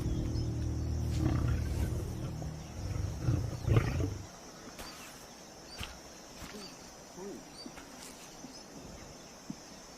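An Asiatic lioness in Gujarat, India, lets out deep, rumbling roars for the first few seconds, then quieter outdoor ambience follows with faint scattered sounds.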